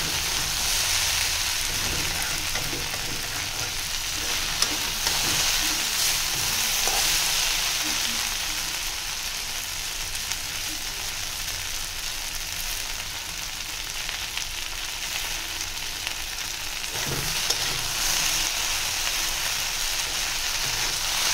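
Okra (bhindi) fries in a pan with a dense, continuous sizzle like light rain, close and even, with occasional soft stirring scrapes and clicks, and no talking.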